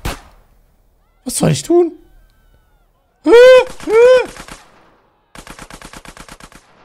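Gunfire in GTA San Andreas Definitive Edition, with a quick rattling automatic burst at the end and a brief shot early on, separated by a voice speaking and short tonal game sounds.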